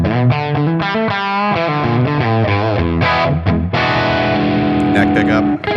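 Distorted electric guitar played through a Tonex amp model on the second input, neck pickup, loud and continuous with chordal notes and sustained tones carrying the whole stretch.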